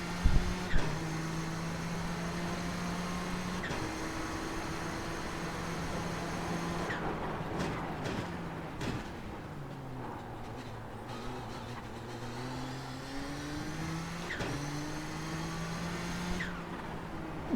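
A powerful Nissan GTP ZX-T race car engine in iRacing revs and climbs through the gears, its steady harmonic drone rising and falling with shifts, loud and close with no talking.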